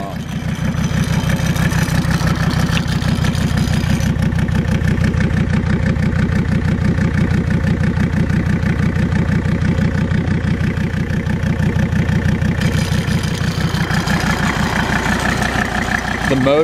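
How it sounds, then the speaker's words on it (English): A diesel tractor engine idles steadily after a Seafoam treatment, a loud continuous low rumble with even rhythmic firing pulses throughout, running smoothly with no voices over it. "the engine sounds very, very good"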